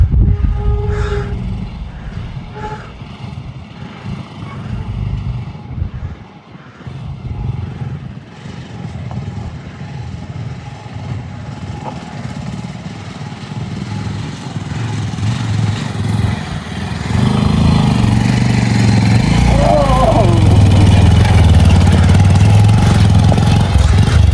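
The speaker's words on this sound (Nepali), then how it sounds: "बाइक आउँदैछ" A motorcycle engine rumbles low and steady on a road in Gufapokhari and Tinjure, growing louder and nearer toward the end, with faint outdoor background and no clear talk.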